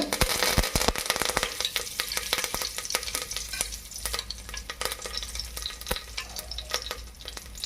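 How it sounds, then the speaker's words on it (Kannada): Curry leaves fry in hot oil for a vegetable pulao, a dense crackling sizzle with sharp pops and spatters running steadily throughout, close and fairly loud with no voices. "ಈಗ ಚಂದಾಗ ಫ್ರೈ ಮಾಡ್ಕೋಬೇಕ್ರಿ ಸ್ವಲ್ಪ ಕರಿಬೇವು ಹಾಕೋತ ಹಾಕೊಳಕತ್ತೀನಿ"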